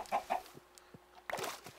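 Minecraft chickens clucking in a farming game, two sharp clucks up close followed by a quieter pause and then a louder burst of clucking, with no talk.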